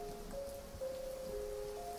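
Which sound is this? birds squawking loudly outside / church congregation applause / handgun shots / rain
rain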